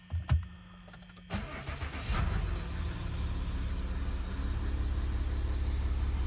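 A Citroen C6 with a V6 HDi diesel engine starts after a brief jingle of keys, then settles into a steady, close, rising engine hum that holds to the end, with no talking.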